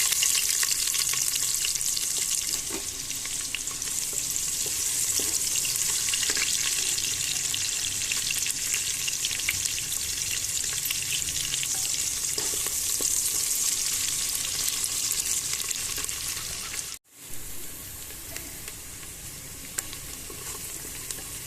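Onion frying in oil with whole spices (cinnamon sticks, bay leaf and caraway) for khichdi produces a steady, loud, close sizzle with occasional stirring scrapes, cutting out briefly near the end before resuming.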